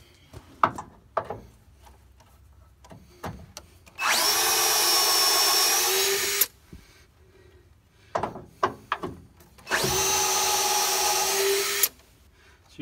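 A Harbor Freight power tool removes bolts from a 1989 Ford F150 truck, in two loud, steady whirring bursts of a couple of seconds each, with clanks and handling noises between them.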